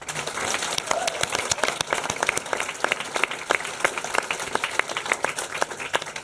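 Audience at a live recording event giving a round of applause, sparse distinct claps from a modest crowd, irregular and fairly close, continuing steadily.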